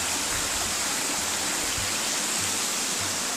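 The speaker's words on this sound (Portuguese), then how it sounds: "essa queda d'água aqui que a gente vai ver lá embaixo" A waterfall seen from above roars as a steady, dense wash of rushing water, loud and unbroken throughout, with no speech.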